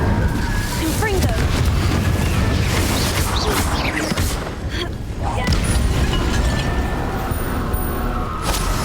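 Booming fiery blasts of the Confringo explosion spell in Hogwarts Legacy, crackling and rumbling among dense combat noise, with a voice heard at times.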